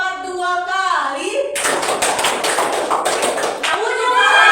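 A burst of rapid, close hand claps in a classroom clapping game, dense and loud for a couple of seconds, with a teacher's voice talking just before and resuming afterward.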